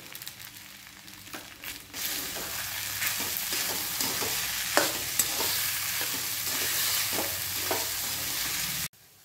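Soaked sabudana for khichdi sizzles and fries in a pan on low heat while a spoon stirs and scrapes it, steady sizzling with repeated scraping strokes, close and alone, stopping abruptly at the end.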